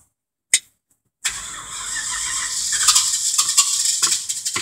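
A car engine cold-starting: after a short click and a pause, the starter catches and the engine fires, settling into a steady, fairly loud idle that builds slightly toward the end with a few throttle blips.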